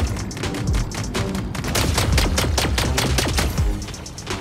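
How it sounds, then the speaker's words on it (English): A bot mech firing in the Mech Arena game: rapid, loud bursts of close gunfire in a steady stuttering rhythm, continuous through the whole stretch with brief dips between volleys, with no talking. "The bot shooting out over here."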